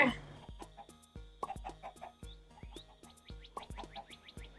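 Chickens in the Minecraft video game cluck in short, repeated game-sound bursts with a steady rhythm, close and fairly clear, layered over a looping background tone with no talking.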